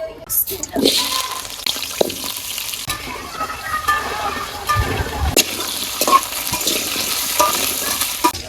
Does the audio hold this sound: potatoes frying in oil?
yes